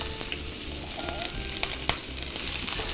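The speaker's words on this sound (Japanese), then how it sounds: "生で食べれるものを強火でガッと炒めます。" Cucumber and yam stir-frying over high heat in a pan with salt, soy sauce and sesame paste, a constant close sizzle broken by scattered sharp crackles and the scrape of stirring.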